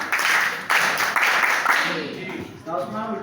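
An audience claps to welcome a judge joining the stage at an event, steady crowd applause that gives way to someone speaking over the tail of it.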